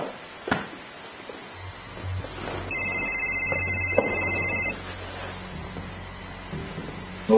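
A telephone rings once indoors, a steady electronic tone lasting about two seconds over a low room hum and background noise.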